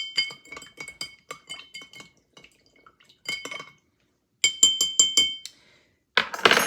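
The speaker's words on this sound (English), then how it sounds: "Then we're gonna give that a stir, mix everything together." Ice and a spoon clinking against a glass as a drink is stirred, a series of quick bright taps in short bursts with brief pauses, close and fairly clear with no talking.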